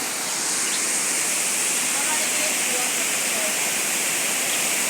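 Charity Falls pours in summer with a loud, dense, unbroken roar of falling water that holds steady throughout.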